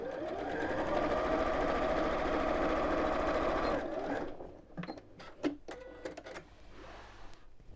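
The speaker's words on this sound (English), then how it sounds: "I'm going to close that just on my sewing machine." A sewing machine stitches closed a gap in a bag lining, a rapid, even mechanical whirr running steadily for about four seconds before stopping, followed by scattered clicks and fabric handling.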